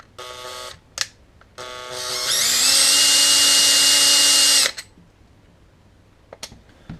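A power drill whines up to a steady high-pitched drone for a couple of seconds while drilling through wood after two short bursts, then stops, leaving quiet with faint clicks.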